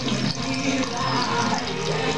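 Water draining out of a hole in a plastic bottle in a simple experiment, a continuous close splashing, gushing flow lasting the whole moment with no pause.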